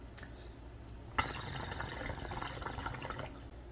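Water bubbling through a hookah base, a steady wet gurgle that starts abruptly after a soft opening and continues close and moderately loud with small drip-like pops.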